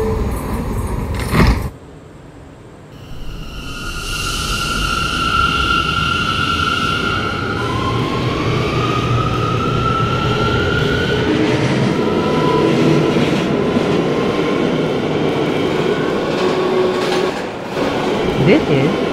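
R179 C local subway train closing its doors and departing, with a thud as the doors shut, then a rising whine of motors and steady rumbling, clattering acceleration, under intermittent announcement voice.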